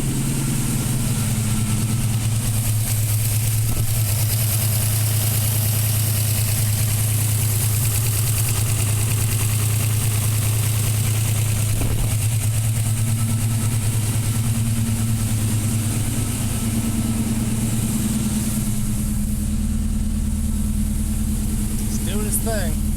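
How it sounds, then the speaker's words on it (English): A car engine fitted with a Holley EFI fuel system idles steadily during warm-up, a continuous low rumble with a steady hum that shifts slightly in pitch partway through. "It's idling."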